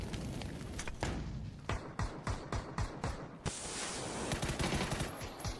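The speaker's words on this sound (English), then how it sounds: "And Vinny picks up a couple of clean shots onto Gabru, takes him down" Gunfire in a battle-royale video game match: rapid bursts of automatic shots over a dense, loud background wash, then a sustained noisy stretch; no commentary over it.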